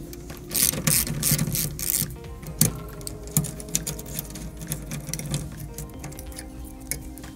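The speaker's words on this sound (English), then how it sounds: "So using a 13-inch millimeter socket, we're gonna start with the negative." A ratchet socket wrench with a 13 mm socket loosens the negative terminal bolt on a large home lithium battery, giving a close run of quick clicking ratchet strokes with a few sharper knocks, and no talking.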